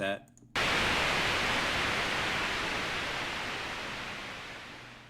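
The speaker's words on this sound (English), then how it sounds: "you can hear the volume fading out" Broadband hiss of synthesized noise kicks in abruptly after a short faint stretch, then slowly fades in volume toward the end.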